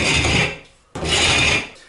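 Two long rasping scrapes of a plaster rasp across fresh plaster, close and fairly loud, separated by a short pause.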